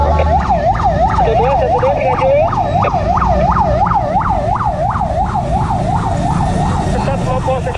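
A loud ambulance siren wails in quick, repeating up-and-down sweeps over a low engine rumble, sustained throughout, at Indonesia's Kopassus training centre.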